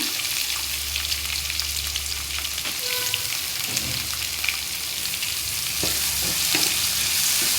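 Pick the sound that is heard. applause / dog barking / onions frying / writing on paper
onions frying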